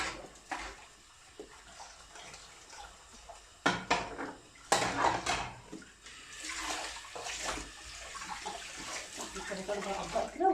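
Dishes rinsed under a running tap in a kitchen sink, a faint continuous water stream broken by a few louder clatters of plates being handled, with light talking underneath.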